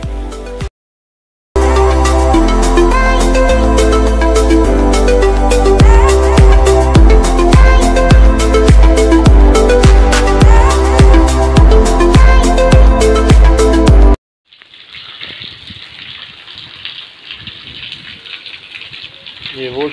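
Heavy rain pours down in a steady, broad wash of noise during the last few seconds, after a long stretch of loud rhythmic music that drowns out everything else.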